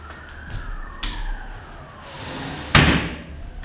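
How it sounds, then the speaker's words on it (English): Wailing sirens rise and fall in the distance, with a couple of loud thuds like a door or window closing nearby. "There's sirens in the background"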